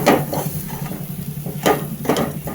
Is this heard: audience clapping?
no